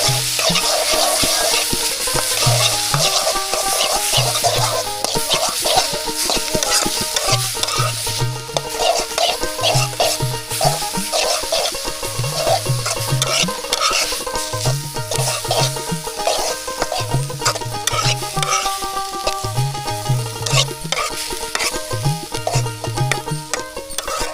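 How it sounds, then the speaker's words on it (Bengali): Leafy greens (shak) are stirred hard in a cooking pan over a village cooking fire, giving repeated rhythmic scraping strokes over a constant loud sizzle for the whole stretch. "নাড়া দাও, জোরে নাড়া দাও।"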